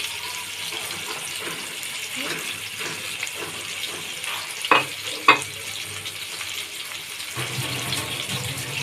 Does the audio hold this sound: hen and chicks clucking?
no